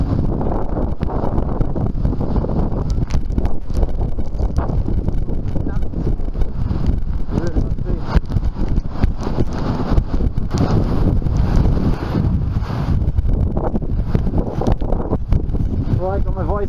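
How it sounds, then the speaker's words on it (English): Strong gusts from Typhoon Hagibis striking Kobe, Japan in 2019, buffeting the microphone with loud, unbroken roaring wind noise that has no letup. "got my visor down there because the wind is really picking up and there's bits of dirt flying around"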